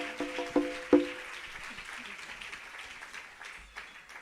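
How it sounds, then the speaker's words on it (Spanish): Spanish-speaking congregation at a Catholic service breaks into scattered applause, a soft, fairly distant wash of clapping after a few sharp nearby claps, fading toward the end. "Merece Dios que haya un aplauso fuerte,"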